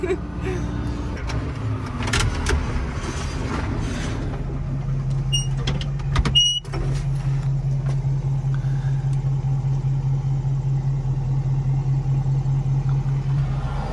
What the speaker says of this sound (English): Tractor in the drive-through.